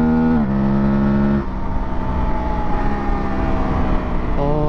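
An Aprilia Tuareg 660 motorcycle engine pulls hard out of a corner on a highway tour, revving up through rising pitch with a quickshifter gear change, loud and close with wind roar behind it.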